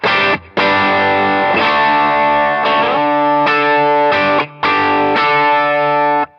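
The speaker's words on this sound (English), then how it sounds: "The Ages is kind of a blues breaker style overdrive" An electric guitar plays chords and short phrases through a Walrus Audio Voyager MKII Bluesbreaker-style overdrive pedal, warm and gritty, loud and up close, with brief pauses between strums.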